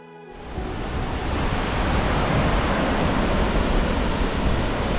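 Lemolo Falls on the North Umpqua River, a powerful waterfall dropping 165 feet into a large pool, roars as a steady, loud, broadband rush that fills the scene from near start to finish, with no talking.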